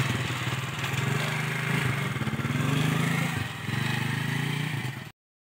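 Motorcycle engine idling, a steady low throbbing pulse with a slight rise and dip in pitch, close and continuous before cutting off suddenly near the end.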